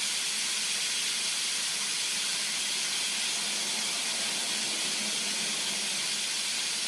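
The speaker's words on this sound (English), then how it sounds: "So all of that pressure is releasing. I should say my electric pressure cooker." Steam vents from an electric pressure cooker in a steady, loud, unbroken hiss, holding at an even level from start to finish with no voices over it.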